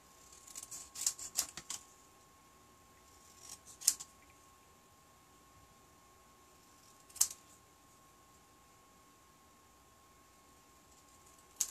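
Scissors snip through paper card pieces for a handmade encouragement card, giving short clustered cuts early on, then isolated snips spaced several seconds apart, close and fairly quiet.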